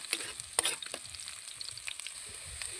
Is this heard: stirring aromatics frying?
yes